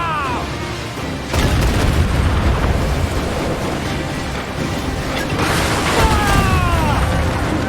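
Heavy cannon booms in a naval battle in Assassin's Creed Black Flag, a loud sustained barrage of deep blasts and rumbling impacts with a sharp burst near the start, mixed with battle noise and shouting.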